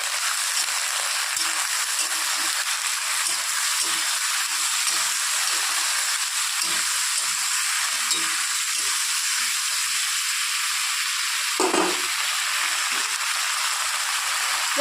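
Flat beans with two green chillies, salt and turmeric fry in a pan, giving a steady, loud sizzle and hiss throughout, with occasional faint stirring scrapes.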